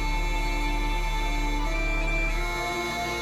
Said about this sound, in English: you can hear the Celtic music playing in the background